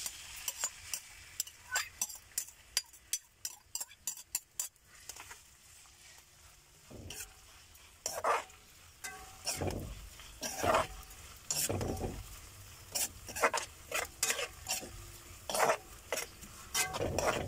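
Chili peppers frying in oil for homemade chili garlic, with clinking pot-and-utensil taps and stirring scrapes early on, then bursts of sizzling and crackling spitting up in waves, close and moderately loud.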